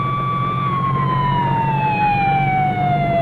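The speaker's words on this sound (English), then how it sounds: "An ambulance swings away with its passenger." An ambulance siren wails in a steady, slowly falling tone over the low rumble of the moving vehicle, loud and close, at a highway crash scene with an overturned car and a sedan on its roof.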